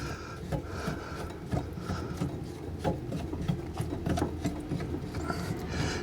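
Someone undoes the drain trap under an old bathroom sink, making close, steady scraping, rubbing and ratcheting noises with small clicks throughout. No one speaks.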